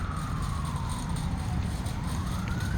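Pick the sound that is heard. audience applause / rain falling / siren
siren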